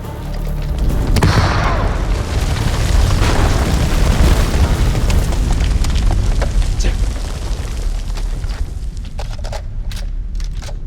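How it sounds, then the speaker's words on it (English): Grenade blast in the video game The Dark Pictures Anthology: House of Ashes, a loud booming explosion followed by sustained crackling debris and rumble that slowly fades over several seconds. "Grenade!"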